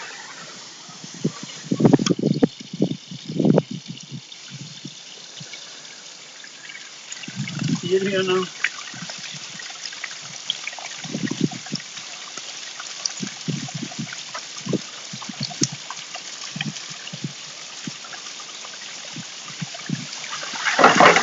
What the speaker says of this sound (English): now I'm going to let all the water out of the trailer